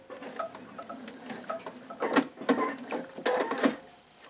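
A sewing machine stitches the Y seams joining patchwork hexagons, with bursts of rapid mechanical ticking and whirring that start and stop, growing louder in the second half.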